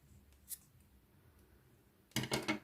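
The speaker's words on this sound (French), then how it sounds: "Vous voyez, ce fil maintenant, je vais le couper." Scissors snip through crochet yarn close by while a small amigurumi keychain is being crocheted, giving a quick cluster of two or three crisp cuts after a near-silent pause with a faint earlier click.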